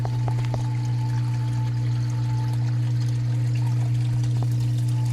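Saltwater aquarium filter sump with water overflowing and pouring steadily beneath a loud constant pump hum, with occasional faint trickles and drips.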